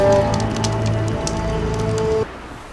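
Steady rain falls in the video game Horizon Zero Dawn, a constant hiss of drops with sustained musical tones underneath and faint ticks above, cutting off abruptly near the end.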